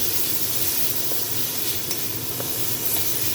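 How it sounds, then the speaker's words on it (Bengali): Cumin, chili, turmeric and salt fry in a pan in a home kitchen, giving a steady, soft sizzle and hiss with a few faint clinks of stirring. "মশলাটাকে ভেজে নেব।"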